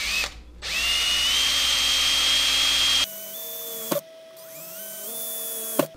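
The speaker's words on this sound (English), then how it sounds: "we're gonna be drilling a few holes in here" A power drill whines close up, boring holes into a rolling camera tripod dolly in two bursts of a few seconds each, with the pitch rising as the motor spins up and dropping as it slows.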